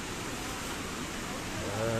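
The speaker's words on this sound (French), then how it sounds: "je ne parle pas trop parce qu'il y a tellement de bruit dans la cascade." A waterfall roars as a broad, steady rush of water, loud and unbroken throughout, with a faint low hum creeping in near the end.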